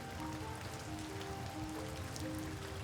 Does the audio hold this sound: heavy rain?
yes